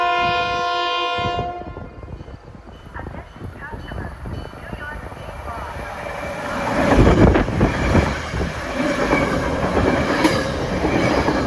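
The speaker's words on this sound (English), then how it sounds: "next up on this pleasant afternoon at 420 is an equipment move with push-pull equipment" A push-pull equipment move train bound from Stamford for Grand Central passes on the New Haven line at Mamaroneck, its horn sounding at the start, then a loud rumble and rhythmic wheel clatter swelling as the cars roll close by.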